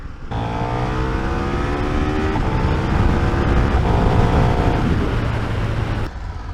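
A KTM 1390 Super Duke R with a loose drive chain is ridden with a loud, close engine note that climbs in pitch through successive gears, then backs off and cuts out at the end.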